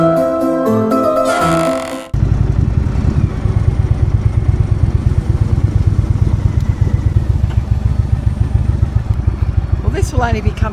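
A motorbike engine drones steadily while riding, loud and close with a fast, even pulsing beat. A short snatch of music plays before it cuts in.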